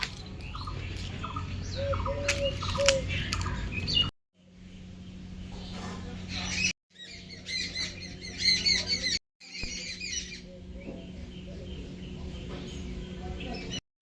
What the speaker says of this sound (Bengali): প্রাকৃতিক এবং তার সঙ্গে পাখিদের কোলাহল